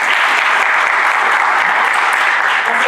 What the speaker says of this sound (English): So I want to give the panel another round of applause.